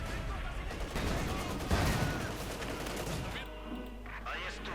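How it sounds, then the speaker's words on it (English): Mortar fire in Company of Heroes 2 sounds through a dense wash of game battle noise, with muffled thumps and rumbling explosions blending together, and a voice talks over the din. "Mortar firing away."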